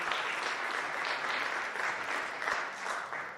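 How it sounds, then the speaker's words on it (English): A school staff talent show audience claps in a steady, dense round of applause, moderately loud and even throughout with no voices standing out. "Give them one big round of applause"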